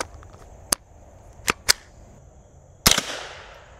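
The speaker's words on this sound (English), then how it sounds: "we're gonna shoot them with increasing calibers to see how many books it takes to stop them" A Tippmann M4-22 firing .22 Long Rifle rounds into a stack of books: a few sharp, fairly close cracks spaced apart, then a louder report with a brief ringing tail, no voices.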